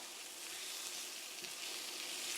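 Spiced tinned potatoes with chili powder, salt, pepper and turmeric mixed in a pan, giving a soft, steady, fairly faint sizzle with no distinct stirring strokes and no talking.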